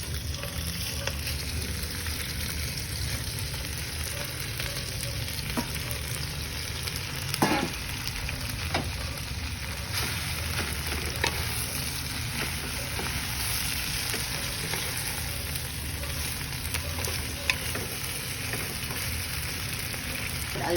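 Camote tops, sweet potato leaves, stir-fried with cooked chicken or pork, give a continuous moderate sizzle in the pan, with occasional sharp clicks and scrapes from stirring.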